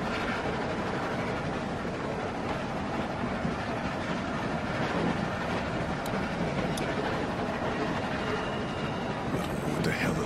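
A moving train in The Walking Dead video game, a steady rumbling rail roar with faint rhythmic clatter running continuously at moderate level, with voices speaking over it.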